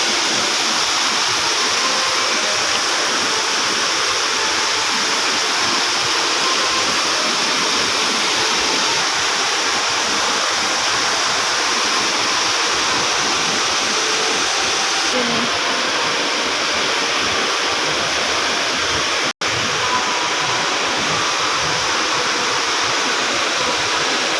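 A waterfall roars steadily throughout, a dense, continuous rush of falling water filling the whole clip at a constant loudness.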